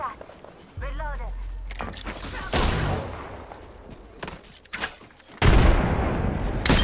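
Bursts of gunfire in a squad-based shooter video game, several sharp cracks and a louder sustained volley near the end, mixed with game sounds and a voice speaking between shots.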